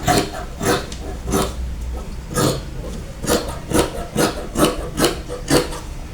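Blouse fabric being cut for a sleeve, a steady run of rhythmic snipping and rasping strokes, close and fairly loud, with no voices.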